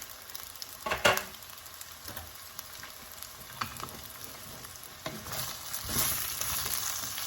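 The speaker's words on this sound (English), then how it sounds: "You can add your curry leaves too." Curry leaves fry in oil with carrots and potato for a Kerala-style stew, making a quiet crackling sizzle broken by a few spatula scrapes and clinks, with the sizzle swelling toward the end and no talking.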